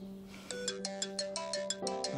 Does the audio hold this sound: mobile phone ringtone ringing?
yes